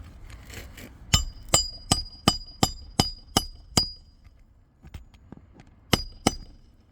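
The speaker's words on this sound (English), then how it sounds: "Lift just slightly. And hammer it flush." Sharp hammer strikes nailing roof shingles in a quick steady run of about eight blows, a pause, then a few more taps and two final hits, close and ringing.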